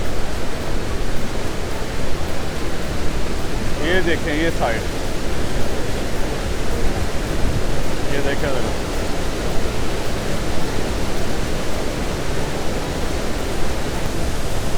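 Roar of Iguazu Falls in Argentina, a heavy steady wall of rushing water close by, with a voice speaking briefly over it twice.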